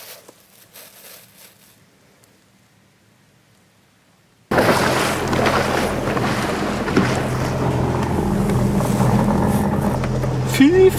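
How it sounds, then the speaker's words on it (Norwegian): A boat going down in open water during a mink hunt: after a few quiet seconds a loud, steady rush of water and wind noise fills the rest, close and harsh. "nå senker båten"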